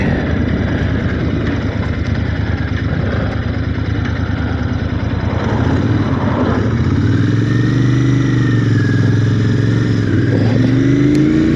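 Motorcycle engine heard from the rider's seat on a ride through rural North Herefordshire, droning steadily and close with wind rush, then other passing traffic and a rising rev as the bike slows and pulls away through a turn.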